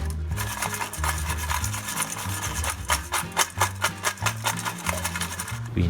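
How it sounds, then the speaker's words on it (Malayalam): Fried potato chips tossed with chilli powder in a bowl, giving a steady close rustling and scraping with rhythmic shaking pulses throughout, alone without talk. "കുറച്ച് ചില്ലി പൗഡർ അങ്ങോട്ട് തൂക്കി എന്നിട്ട് നല്ലോണം അങ്ങോട്ട് മിക്സ് ചെയ്ത്"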